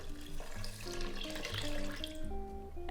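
Water is poured into a pot of coconut milk for coconut rice, giving a steady splashing, gurgling trickle for a few seconds at close range.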